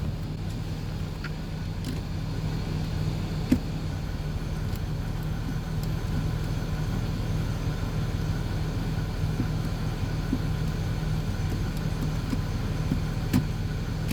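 A Land Rover Discovery 3 engine idles steadily while its ZF 6HP26 six-speed automatic gearbox is cycled through the gears, a constant low rumble with occasional faint clicks and no speech.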